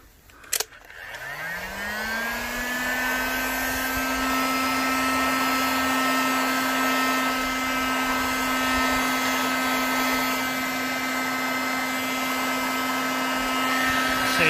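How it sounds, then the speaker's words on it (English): A heat gun blows over a smoothed part during a Raleigh Burner bicycle restoration, starting with a click and then holding a loud, steady whirring hum, close and continuous without speech. "now I'm going to run the heat gun over it and see if it makes it shiny again"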